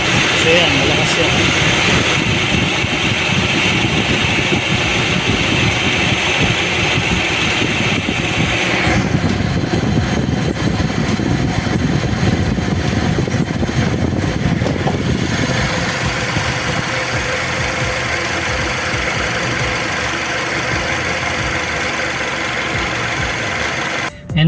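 A car engine idles steadily with a newly replaced AC condenser fan motor whirring at the front, a constant close mechanical drone that shifts in tone partway through, while someone talks over it.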